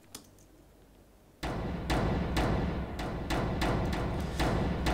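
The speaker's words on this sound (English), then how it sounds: "this Trailer FX one doesn't have anything on it, and it sounds like this" Dry Trailer FX percussion hits from Logic Pro, played with no effects: a series of loud, sharp, booming impacts at a steady rhythm after a quiet opening, with no voices.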